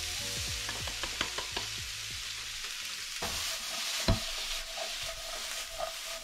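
Celery, onion and garlic sauté in melted butter in a pan, giving a steady close sizzle broken by repeated scraping stirs, with no voices.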